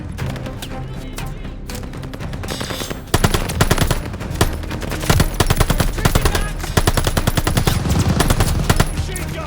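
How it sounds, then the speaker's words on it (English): Rapid automatic fire from a tower-mounted machine gun in the video game Call of Duty: Vanguard, loud and dense, with sustained bursts that intensify after a few seconds amid battlefield noise. "Machine gun!"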